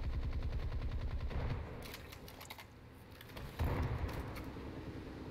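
Ship guns in War Thunder naval battle fire in a steady rapid stream of loud bursts, with a denser volley near the start and another around the four-second mark, continuous and close.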